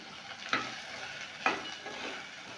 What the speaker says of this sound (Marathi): बटाटे छान परतून घ्यायचे आणि यामध्ये आता घालायचे अर्धा वाटी शेंगदाणे